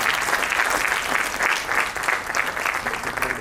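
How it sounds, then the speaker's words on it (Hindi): Loud, steady applause from an audience at a foundation award function, dense hand claps filling the space without a break for over three seconds. "मैं चाहती हूँ जोरदार ताली उनके लिए बजाएं"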